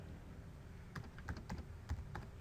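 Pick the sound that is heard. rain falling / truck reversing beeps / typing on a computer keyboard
typing on a computer keyboard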